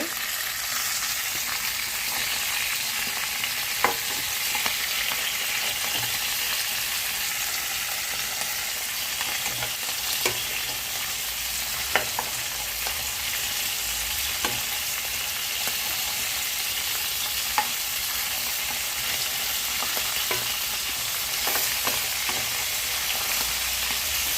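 Egg and salted dried ribbon fish for a curry fry in a pan of oil, giving a steady, dense sizzle with small crackles and pops throughout, with no talking.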